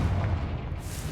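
A Confringo blasting spell going off in Hogwarts Legacy, a single deep booming explosion with a low rumbling tail that fills the whole moment and fades only slightly.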